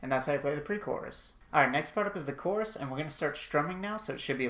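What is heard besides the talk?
None of the usual background noises is heard.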